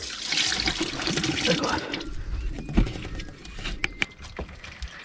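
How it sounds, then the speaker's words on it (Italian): Coolant draining out of a Td5 engine's cooling system, a steady splashing trickle of liquid pouring into a container, fairly close, thinning toward the end with a few drips. "Inizia a scendere la prima acqua."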